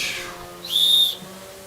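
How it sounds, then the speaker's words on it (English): A small baby-doll toy whistle gives one short, shrill high-pitched toot, clear and close, following a fainter fading tone. "Little baby doll whistle."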